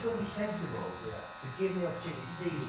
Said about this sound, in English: let the clippers do the work